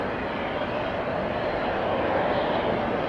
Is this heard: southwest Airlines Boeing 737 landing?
yes